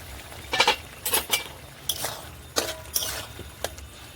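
A lid lifted off a pot of ash gourd that has cooked covered for ten minutes: a handful of close, light metallic clinks and rattles spread over a few seconds, with no voices.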